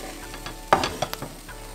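Cumin seeds toasting on a hot comal give a few soft crackles and light scraping stirs, with one brief louder sizzle burst in the middle, quiet and close.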